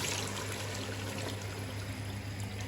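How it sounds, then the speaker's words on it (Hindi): Water poured into a pan of fried vegetables for chicken and vegetable fried rice, a steady continuous pour with a faint hum underneath, no talking. "अब हम इसमें ऐड करेंगे पानी।"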